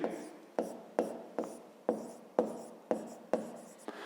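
A pen writes by hand on paper during a maths lesson, making close, quiet scratching strokes. They repeat in a steady rhythm of about two per second, each with a sharp tap-like start, with no talking over them.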